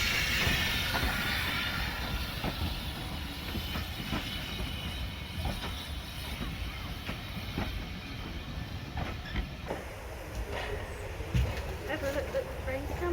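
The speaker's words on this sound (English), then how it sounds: "The train's coming." Steam locomotive 060 Twizell rolls into a station platform on a centuries-old railway, giving a broad rumbling, hissing wash of sound with scattered clanks, and voices talk faintly over it.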